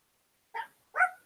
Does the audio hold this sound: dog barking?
yes